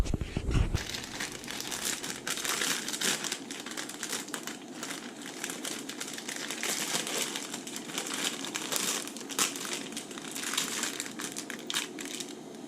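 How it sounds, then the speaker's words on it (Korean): Crinkly plastic packaging of a Pulmuone vegan ramen being torn open and handled, a steady run of crumpling and rustling close to the mic with no talking, lasting about twelve seconds. "그러면 이 라면을 뜯어 가지고 구성품을 한번 보겠습니다"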